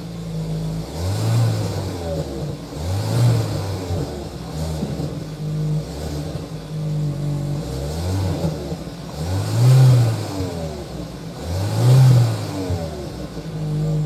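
A Hyundai Tucson N-line Hybrid SUV engine revs in repeated deep surges, roughly every two seconds, with a throaty rumble from its twin exhaust tips rising and falling close by.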